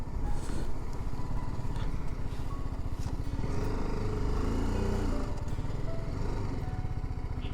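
A motorcycle being ridden into parking near Vishnu Prayag in Uttarakhand, its engine chugging in a steady low putter close by, with a slight rise and rumble midway and no talk over it.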